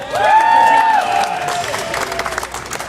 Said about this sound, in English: y'all give this man a big round of applause.